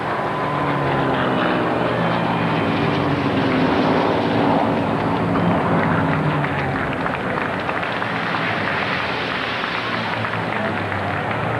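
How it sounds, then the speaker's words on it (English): A World War II B-17 bomber flies over the 1995 Indianapolis 500 on Memorial Day weekend, its propeller engines producing a loud, steady, sustained drone that fills the whole stretch with no talk. "a flyover by a B-17"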